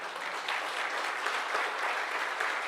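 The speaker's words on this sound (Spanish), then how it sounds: "Denle un aplauso fuerte si ya se lo quiere dar." Steady applause from a church congregation, dense and even, filling the whole stretch without pause.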